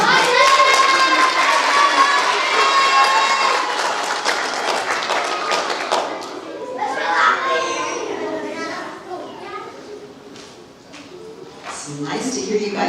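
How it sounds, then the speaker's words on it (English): Applause and cheering from an audience of children and adults at a first-to-third grade school awards ceremony for an award winner, loud clapping that fades into scattered kid voices and chatter. "Nice to hear you guys cheer for each other"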